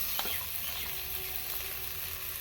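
Ginger paste dropped into onions frying in oil for chicken kofta curry, giving a steady close sizzle with a brief clatter at the start and no voices.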